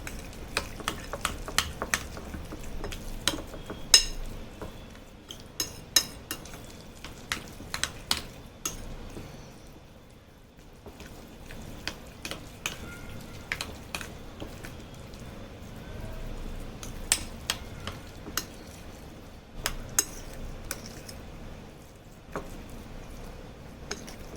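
A spice mixture with a little extra oil is kneaded and mixed by hand in a bowl, giving soft squishing and scraping with light clicks against the vessel, steady and close.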